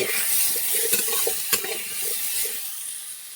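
Potatoes seasoned with salt and turmeric fry in a pan with a steady broad sizzle, broken by a couple of sharp utensil clicks as they are stirred; close and fairly even, with no talking.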